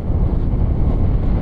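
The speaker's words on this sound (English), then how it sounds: "A little bit cold, a little bit windy." Wind blowing outdoors across a frozen lake during ice fishing in Maine, a steady low rumbling buffet against the microphone, loud and constant for a short moment with no talk.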